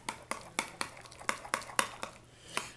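A spoon stirring black pepper into fresh spring onion pesto in a bowl, giving about ten quiet, evenly spaced clinks and scrapes of utensil against dish, with no talk.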